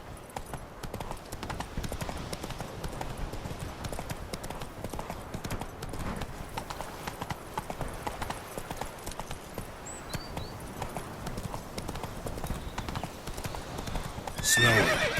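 Roach, a horse in the Witcher 3 video game, galloping with a steady, dense clatter of hooves throughout, a whinny-like burst near the end, set against continuous game ambience without speech.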